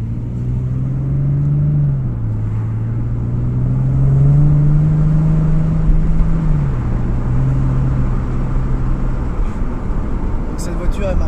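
Nissan 370Z with its naturally aspirated engine idling and gently revving, a steady low engine drone rising and falling in pitch a few times, with people talking over it.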